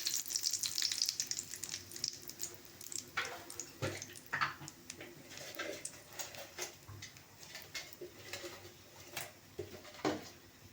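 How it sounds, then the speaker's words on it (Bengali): Dry red chillies sizzle and crackle in hot oil in a kadai for tempering, a steady close frying hiss with sharp pops and spatters throughout, no talking. "শুকনো লঙ্কা ফোড়ন দিচ্ছি।"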